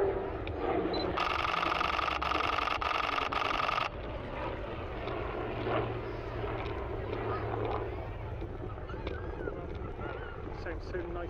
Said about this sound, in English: Sounds so nice, the engines